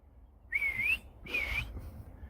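Two clear whistled phrases from a person, each a short wavering tone, separated by a pause over quiet background hiss.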